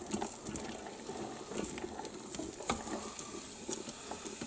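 Beef and potatoes brown in a pot with a quiet, steady sizzle broken by the scrape and clatter of stirring.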